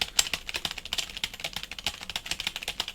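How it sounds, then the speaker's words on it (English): Fast, uneven keystrokes from someone typing gibberish on a computer keyboard, with a continuous close clatter of light clicks and no voices. "I'm just going to type some complete gibberish."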